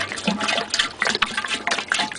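Water poured into an engine's cooling reservoir, like filling a car radiator: a short, uneven gurgling splash with choppy bursts, close by and moderately loud, with no talking.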